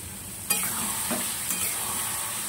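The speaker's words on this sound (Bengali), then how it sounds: "দু তিন মিনিট একটু কষিয়ে নিই।" Young pointed gourd (potol) stir-fried in a pan: a steady loud sizzle with spatula strokes scraping through the pieces, close and continuous with no voices.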